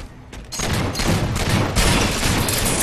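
Bolt Shot gunfire in Halo 4 multiplayer, a dense rapid burst of loud energy shots running almost continuously after a brief quiet start, with no talking.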